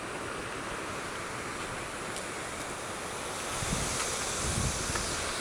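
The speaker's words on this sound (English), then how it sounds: "I'll show you the gust of wind pushing these trees." Strong hurricane wind from Hurricane Matthew pushes through trees near a lake, a steady loud broadband roar that swells into heavier gusts toward the end, with no voices.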